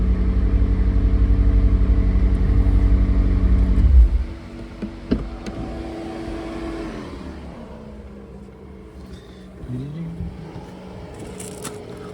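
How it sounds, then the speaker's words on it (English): A black McLaren 600LT's engine drones loudly at a steady high idle, then drops abruptly to a lower burble, with a faint rev and settling idle afterward. "it's a McLaren, it's a fantastic machine"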